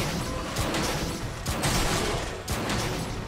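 Rapid gunfire bursts from shooting at a monster's arms in the video game Monster Hunter 3 Ultimate, loud and dense with repeated volleys and crashing impacts, no talking.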